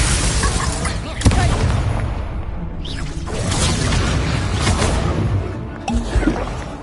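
An Incendio fire spell is cast in a Harry Potter video game: dense, roaring fiery bursts with booming thumps over a continuous loud wash of combat noise.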